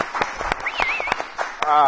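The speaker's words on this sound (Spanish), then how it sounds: "Eso merece un aplauso." Cheering and clapping burst out over lively talk, with whistles and bright shouts mixed in, fairly close and energetic for a couple of seconds.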